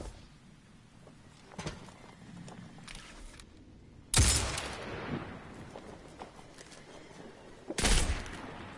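Gunfire in the PS4 game Destiny: scattered shots, then two loud, sharp blasts with echoing tails several seconds apart, over a low, busy battle background.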